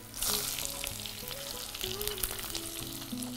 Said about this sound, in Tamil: என்ன சூடாயிடுச்சு, இதில் சோம்பு கருவேப்பிலை போட்டு ரெண்டு கை வெங்காயம்